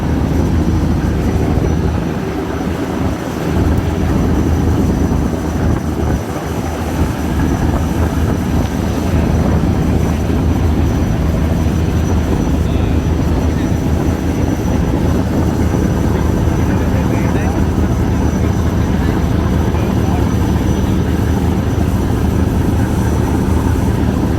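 Three passenger launches racing side by side on a river, a loud continuous engine drone and rumble with heavy low throbbing, steady and close for the whole stretch with no talk.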